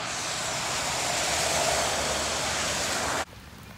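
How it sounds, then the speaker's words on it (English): Heavy rain pours down during a hurricane, a dense, steady, loud hiss that fills the scene up close before dropping away abruptly near the end. "But that's too much rain, man."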